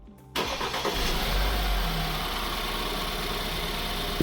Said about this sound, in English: Let's test the engine.